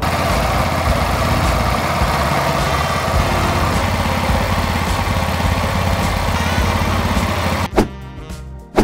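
Reduction-drive engine idling aboard a fishing boat, a loud, close, steady low chugging drone that runs unbroken before cutting off abruptly near the end, followed by a brief thump.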